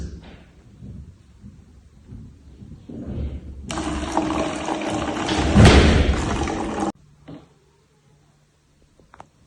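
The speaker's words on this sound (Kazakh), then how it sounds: "Бірінші, құтыдағы суды бос бутылкаға құйып аламыз." Water from a container poured into an empty plastic bottle, a few seconds of loud gurgling, splashing flow close by, preceded by faint handling knocks and ending abruptly into near silence.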